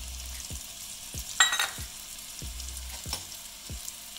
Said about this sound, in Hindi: अदरक और लहसुन के पेस्ट को अच्छे से भूनूंगी